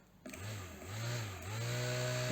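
A homemade cooling fan's motor starts up, its tone rising and surging in three pulses before settling into a steady hum, close and loud with no talking.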